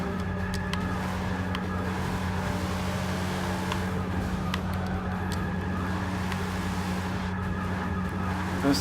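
A 1969 Pontiac Firebird drifting in Forza 6 holds a steady, droning engine tone with a constant hum, while faint tire noise and small clicks run over it for the whole stretch.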